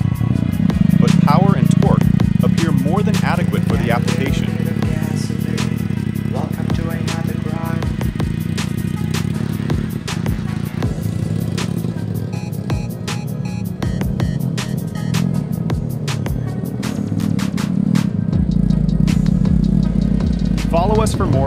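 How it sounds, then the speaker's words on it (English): The Sunray GT solar hybrid car struggles over a battered track, its motor droning steadily while repeated knocks and clunks from the rough surface punctuate the sound, with a voice talking over it. "The little solar car is having a hard time over the battered track"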